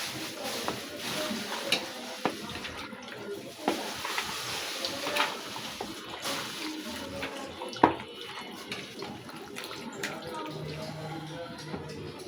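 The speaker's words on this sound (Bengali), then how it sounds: "ডিমটার সাথে ভালো করে মাংসটা মিশিয়ে নেব।" Chicken meat worked by hand into beaten room-temperature egg for crispy fried chicken, giving soft, wet squelching and slapping with irregular small clicks, close but fairly quiet against a low background hiss.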